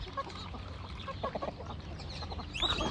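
A goose honks and cackles beside a large lake, faint and somewhat distant over steady outdoor background noise, with a sharper call near the end.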